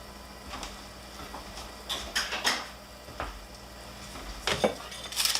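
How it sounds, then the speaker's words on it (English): A drop lid is set onto a pot of kakuni, Japanese simmered pork belly, heating on high, giving a few light metallic clinks and taps, close and fairly faint with no talk. "we will put on the drop lid"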